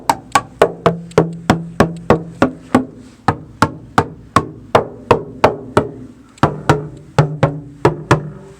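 A rusty truck floor being tapped with a tool, a steady series of about twenty sharp, close knocks at an even rhythm, some hollow and dull, with no talk.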